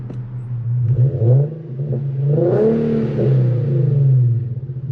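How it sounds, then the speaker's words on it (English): A straight-piped Infiniti Q50 3.7 engine revs up and settles, rising to a louder roar midway then holding a rumbling idle, close by with no talking. "I'm gonna go ahead and give y'all a little rev."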